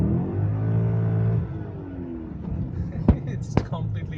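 A BMW E39 M5 with a slipping clutch has its engine revved: the pitch climbs, holds briefly and then falls away, followed by quieter running and a couple of sharp clicks.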